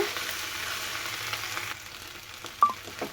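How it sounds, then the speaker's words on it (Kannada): Cooked greens frying in a pan, with a hissing sizzle for the first half that then drops away, followed by a few brief clinks and scrapes of a utensil. "ಇವಾಗ ಅದನ್ನು ಒಂದೆರಡು ನಿಮಿಷ ಫ್ರೈ ಮಾಡ್ಕೊಳ್ಳೋಣ ಈ ಥರ ಫ್ರೈ ಮಾಡ್ಕೋಬೇಕು"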